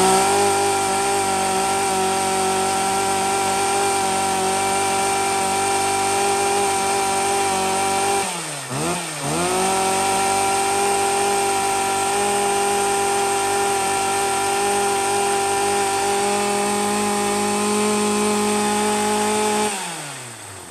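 A used Japanese chainsaw engine runs loudly and steadily close by, holding a high whine with one brief dip in revs partway through before cutting off at the end.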